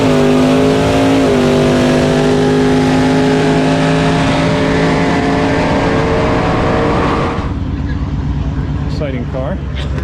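Barry's Firebird drag car, a 440-powered race machine, roars hard down the drag strip with a loud, sustained engine howl rising in pitch, then cuts off abruptly near the end, leaving fainter distant engine noise.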